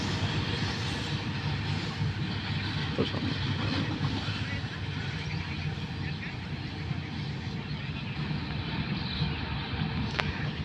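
An Indian goods train rumbling past at steady volume, a continuous broad roar of wagons on the rails with a faint high squeal near the end.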